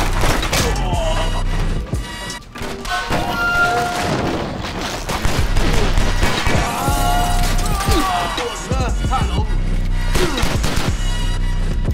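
Video game gunfire crackles in dense, repeated bursts of sharp shots and crashes, loud and close, with short pauses between volleys.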